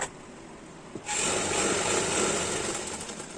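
A sewing machine stitching an umbrella frock starts up after a brief quiet moment and then runs in a steady, close, continuous whir with no talking.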